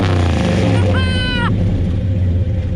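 A Chevrolet big block 454 V8 in a square body Chevrolet pickup rumbles loudly up close near the exhaust, with a brief rising whine partway through before settling back to a deep idle.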